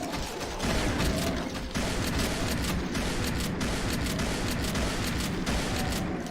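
Dense, continuous gunfire and explosive blasts from Brutal Doom on a punishing difficulty, with a shotgun among the weapons. The racket is loud and unbroken, with rapid shots layered over rumbling booms throughout.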